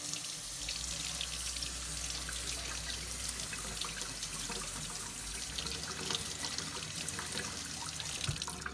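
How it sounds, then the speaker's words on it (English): Hot water runs steadily from a kitchen tap onto a frozen ice-lantern mold, a continuous close splashing flow into the sink for the whole stretch with no talk. "now we've got to get this ice out, so I like to run hot water on it"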